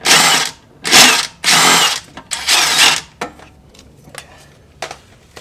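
A power tool drives an 18 mm control arm bolt on a Jeep JL during a lift install: four loud, close bursts of about half a second each, then a few short fainter clicks and taps.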